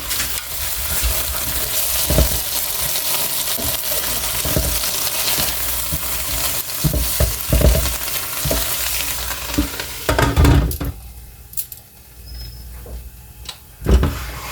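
Peppers frying in a pan with a loud, continuous sizzle, broken by scraping stirs and a few knocks before the sizzle suddenly drops to near quiet.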